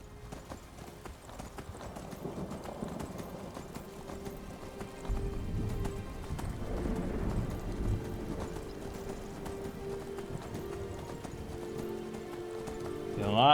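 Hoofbeats of a ghostly horse galloping in the video game Enderal, a Skyrim mod, drum steadily over game ambience, growing heavier midway and carrying on at an even pace.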